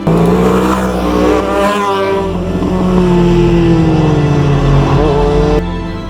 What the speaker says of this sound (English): being a Sunday, the motorbikes were out